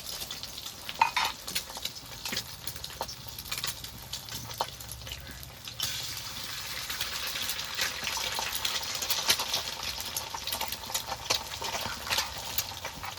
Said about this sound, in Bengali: কড়াইতে তেলটা গরম হয়ে গেছে এবার ডিমগুলো ভেজে নেবো